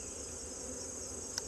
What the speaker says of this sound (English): And now these bees here have some food as well.